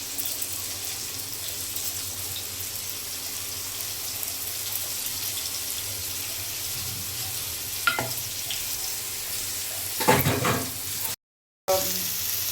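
Bangda mackerel fish frying in oil in a pan, a steady soft sizzle throughout with a couple of brief clatters of the fish being turned and a short cut near the end.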